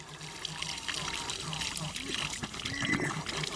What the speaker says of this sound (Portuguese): Ó, agora ligou. Aí ela fica com bem mais pressão.